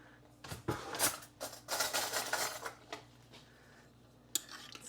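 Spoon scraping and scooping packed cranberry pulp from a container for cranberry sauce, a series of close, irregular clinks and wet scrapes with a sharp knock near the end, no talking.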